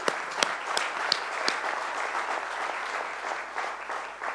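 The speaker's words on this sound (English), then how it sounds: "I like to applaud Subramania Bharti for all the work he did" Steady crowd applause at an awards ceremony in a hotel, many hands clapping at once, filling the space evenly with a few sharper claps standing out.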